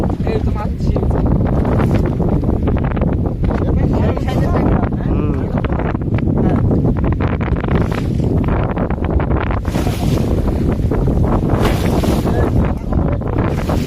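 Waves slap against a fishing boat at sea while strong wind buffets the microphone in a loud, continuous roar, with voices talking over it.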